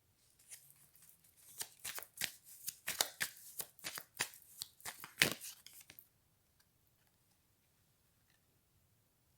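Playing cards shuffled and riffled by hand during a card reading, a quick run of crisp, close clicks and flutters lasting several seconds, then stopping into near silence.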